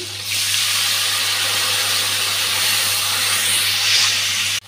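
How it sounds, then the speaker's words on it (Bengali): A mixed spice paste hits a hot pan for paneer curry, bursting into a loud, steady sizzle that holds for several seconds before cutting off abruptly. "গুলে রাখা মশলাটা দিয়ে দিচ্ছি।"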